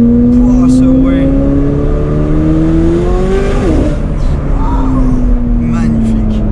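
A Pagani supercar engine revs loud and close, its tone climbing then dropping as it pulls through gears with a throaty roar, while people talk excitedly over it.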